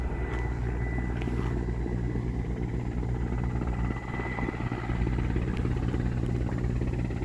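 A firefighting helicopter flies toward a water source to scoop water during a blaze, its rotor and engine making a loud, steady, close rumbling drone for the whole stretch without talk.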